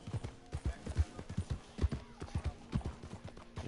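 Horse hooves clip-clopping at a steady walking rhythm in a video game, close and fairly quiet, with nothing else heard over them.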